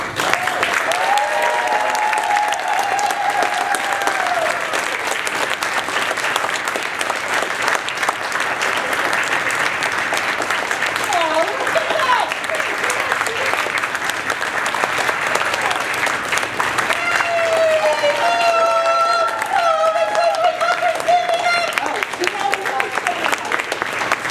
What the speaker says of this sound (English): we're just going to celebrate them by giving them a great big cheer one last time